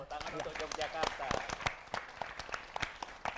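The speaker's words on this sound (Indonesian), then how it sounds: "Nah, tepuk tangan ya." Applause from an audience at a community gathering, a steady patter of many hands clapping with a few sharper individual claps, and voices talking beneath it.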